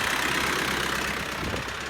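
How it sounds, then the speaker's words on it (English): A Land Rover Stage One V8 recovery truck's diesel engine idles with a steady, meaty rumble, close and continuous with no talk. "I think it's a really nice sounding diesel. It just sounds so meaty."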